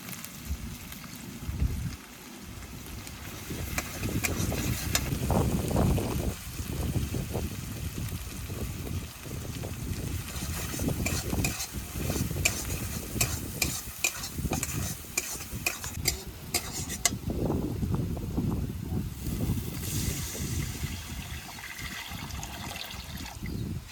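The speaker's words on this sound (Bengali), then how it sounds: "এবার পরিমাণ মতো নুন হলুদ দিয়ে আমি জল ঢেলে দেবো।" Water is poured into sizzling spice masala for a katla fish curry, making a continuous loud frying hiss with bubbling and stirring scrapes close by throughout.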